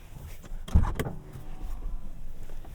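Power running boards on a 2023 Toyota Sequoia Capstone whir and clunk as they deploy, a short motor burst with a knock near the start, followed by a quiet steady hum inside the vehicle.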